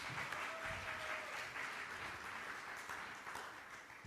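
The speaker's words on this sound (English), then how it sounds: "Give them another round of applause," A congregation at a Sunday talk applauds, a steady, even patter of many hands clapping heard faintly at a distance throughout.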